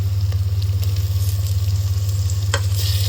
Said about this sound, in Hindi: ऐड कर देंगे टमाटरों को भी।